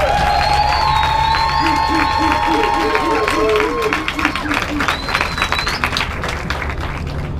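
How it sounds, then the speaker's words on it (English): A crowd at a Walmart Supercenter grand opening in Oklahoma City bursts into applause and cheering, with busy clapping building over background tones and scattered voices. "Let's give Gerald Brown a big round of applause."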